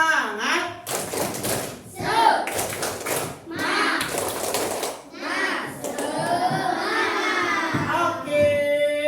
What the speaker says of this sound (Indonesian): Kita tepuk semangat dulu biar semangat mengerjakannya